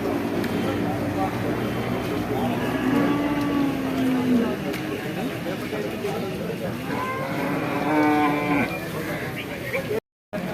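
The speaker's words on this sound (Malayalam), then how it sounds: "മൂന്ന് പോത്തുമുട്ടികളൊക്കെ ഉണ്ട്" Buffalo calves at the Kollannur cattle market, two drawn-out moos rising over a steady crowded background of market murmur and engine noise, heard fairly close and loud.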